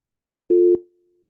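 A telephone busy signal after dialing: one short, clean, steady tone that stops abruptly, with a faint ringing tail in an otherwise quiet room.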